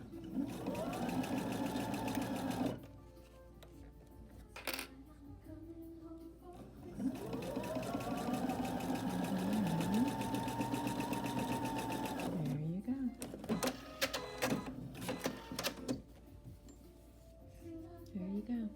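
A sewing machine stitches a bra cup in slow, even runs, its motor whirring steadily in three bursts separated by brief pauses and light clicks, with a person talking softly over it.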